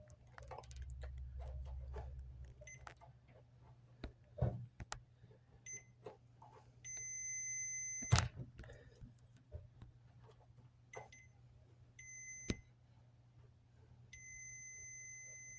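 A multimeter gives a few sharp electronic continuity beeps at intervals, including some sustained tones, testing a bare metal spot on a truck bed, over a quiet background with faint clicks and a low hum.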